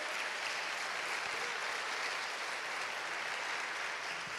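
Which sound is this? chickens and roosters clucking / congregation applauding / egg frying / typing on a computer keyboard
congregation applauding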